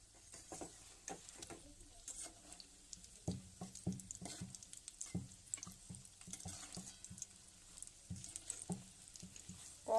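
Cauliflower singara frying slowly in low-heat oil, giving a faint, steady bubbling patter with scattered soft pops and light clicks throughout, no voices.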